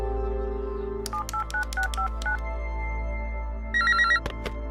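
A telephone on speakerphone is dialed in a film scene: a quick run of touch-tone beeps, then a trilling electronic ring burst, heard clearly over a steady low hum.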